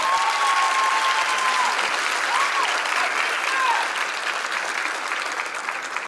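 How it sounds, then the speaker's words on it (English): An audience at a 2014 dance company recital gives another round of applause, steady and full crowd clapping throughout, tapering off at the end. "Give them another round of applause"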